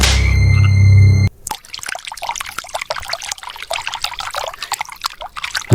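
Water trickles and splashes onto a person in a comedy short film, an uneven run of wet drips and patters lasting several seconds after a brief loud tonal burst at the start.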